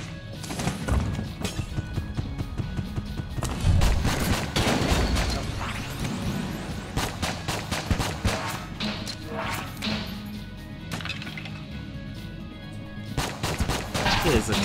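Rapid gunfire from a gun in the video game Enter the Gungeon, dense repeated shots and crashing impacts, loud and continuous with game music underneath.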